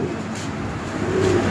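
Lahori pigeons at a pigeon sale give low, soft cooing over a steady murmur of background noise, with a brief clearer coo near the end.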